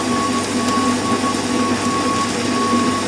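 A metal lathe runs at about 750 RPM, giving a steady mechanical whir with a thin constant tone and a faint rattle. The sound holds even and unbroken throughout.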